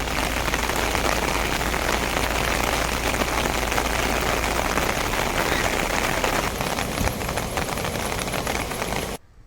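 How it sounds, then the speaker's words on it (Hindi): Steady heavy rain falls in Bhavnagar, a dense, loud, unbroken patter of drops on surfaces lasting throughout before cutting off abruptly at the end, with no talking. "भावनगर में दिन भर बरसात बरसती रही"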